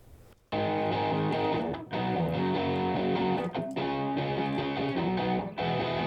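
Distorted electric guitar playing chords and riffs through a Fender amp, loud and continuous after a brief quiet start, with no talking.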